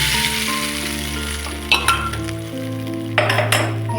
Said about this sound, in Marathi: हे बघा, किती छान असा तडका बसतो